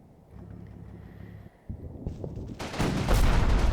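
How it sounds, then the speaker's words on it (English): Gunfire in the war game Combat Mission, a crackling burst that builds toward the end of the clip over a low background rumble, suggesting machine gun fire rather than a single shot. "There's some kind of machine gun in there."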